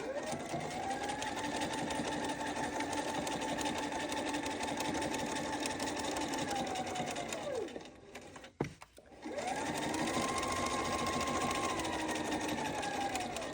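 A sewing machine stitches a Sew Together Bag made from Tula Pink fabric, running in a long steady whirring stretch and pausing briefly partway through before starting again, close and loud with no talk.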